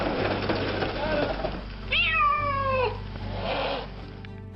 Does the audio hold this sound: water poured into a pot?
no